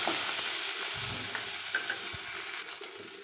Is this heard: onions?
yes